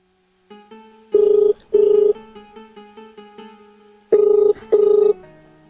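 A telephone call being placed produces a melodic ringtone of short tones, broken by two pairs of loud, steady ringing bursts; it sounds close and clear with no voices.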